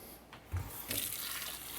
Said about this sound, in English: I'm gonna add some water to them